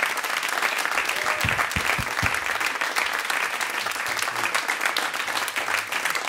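Loud, sustained applause from a large jazz concert crowd, dense steady clapping filling the whole stretch without a break.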